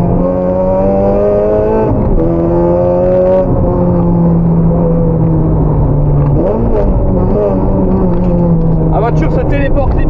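Powerful 400-horsepower Honda Civic driven hard on a road, its loud engine drone rising and falling through the gears with sharp shifts, close up from inside, under a voice talking over it.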